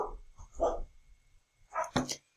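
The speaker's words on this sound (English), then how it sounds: "I think you heard my dogs barking in the background" Dogs bark a few times in the background, muffled and fairly faint, with short separated yelps near the start and a louder pair of barks toward the end.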